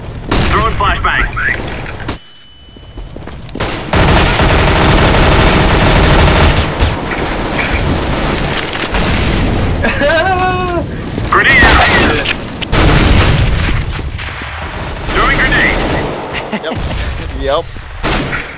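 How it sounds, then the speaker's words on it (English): Counter-Strike match with a flashbang and gunfire: dense bursts of rapid shots, booms and a high ringing tone, continuous and loud, with players talking over the action. "Deploying flashbang! Throwing flashbang!"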